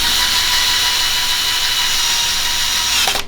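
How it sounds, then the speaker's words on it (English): A power drill whirs steadily and loudly at close range, driving a screw through a PVC vent pipe on a tankless water heater, then winds down abruptly at the end. "Take your drill and just drill 1 screw through the PVC"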